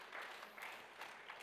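Congregation applause at an Easter evening church service, a brief, soft burst of scattered clapping heard from a distance.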